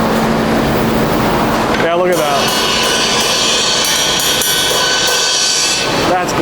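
Cymbals being hammered at the Sabian factory, a loud, dense, continuous metallic clatter and ringing with a sharp burst near the two-second mark, while a person speaks over it.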